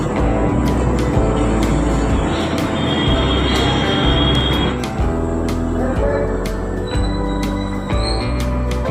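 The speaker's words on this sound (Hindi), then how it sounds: "मोर ट्रेन आते प्लेटफॉर्म नंबर 5 में" At railway platform number 5 in Chhattisgarh, a train rolls in with a steady low rumble of wheels and carriages, close and continuous, with faint squeals and clanks over the noise of the station.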